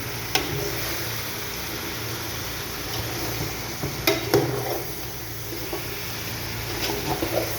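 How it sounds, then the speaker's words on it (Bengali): A rohu fish curry with potato and eggplant stirred in a pan on the stove, soft scraping and occasional sharp clinks of a utensil against metal over a steady low simmer. "আমি হালকা নাড়াটা দিব।"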